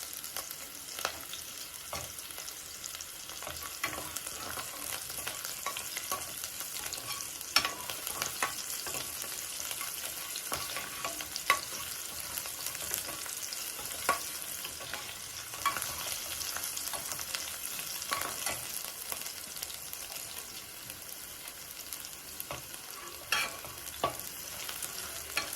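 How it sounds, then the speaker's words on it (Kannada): Garlic frying in a pan for village-style bassaru, a steady soft sizzle with light stirring scrapes throughout, fairly quiet and close with no talk. "ನೋಡಿ ಬೆಳ್ಳುಳ್ಳಿ ಫ್ರೈ ಆಗಿದೆ."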